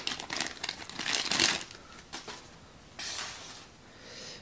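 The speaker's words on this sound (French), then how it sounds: "ça c'est un sachet qui s'ouvre pas facilement" A crinkly plastic sachet being torn open, giving bursts of sharp, close crackling and rustling with short pauses in between, and no talking.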